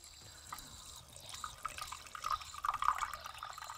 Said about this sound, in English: we should finally get a little bit of water out